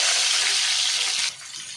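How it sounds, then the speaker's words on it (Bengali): Pieces of pointed gourd (potol) frying in hot oil in a wok: a loud, dense sizzle fills the clip and drops abruptly to a quieter, steady crackle near the end, with no talking. "আমি এবারে পটলগুলো ভেজে নেব।"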